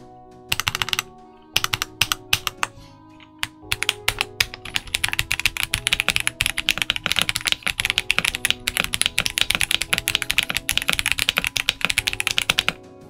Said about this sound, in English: This keyboard does really just sound really nice.